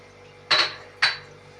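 A metal spoon strikes a pot twice about half a second apart while sugar is stirred to caramelize, two sharp clinks over a low steady hum with no talk.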